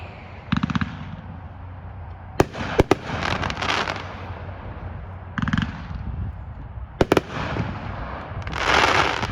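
Consumer fireworks from a cake named Dragon at a demo day: repeated crackling bursts and sharp loud bangs in several waves, with bright hissing crackle near the end, fairly close and loud.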